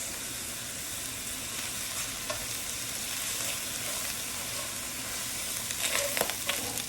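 Teriyaki beef fries in a pan as a steady, close sizzle that holds throughout. Near the end comes some stirring and scraping, with brief crackling bursts.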